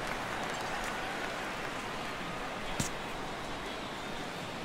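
Steady rain falls in the baseball video game MLB The Show 17, a soft, even hiss of drops that goes on throughout, quiet and unbroken apart from one faint tap.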